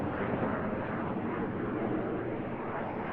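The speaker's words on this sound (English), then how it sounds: "Each aircraft cross in the middle, they now turn hard away from each other" Aerobatic jets maneuver at the Eastbourne airshow, producing a continuous dense jet roar that stays loud and even throughout, with no voices heard.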